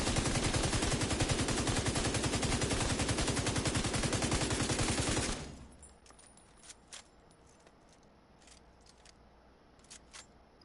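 Light machine gun in The Division 2 fires a loud, dense sustained burst of rapid automatic shots at the shooting range, then abruptly stops, leaving quiet background with a few faint clicks and ticks.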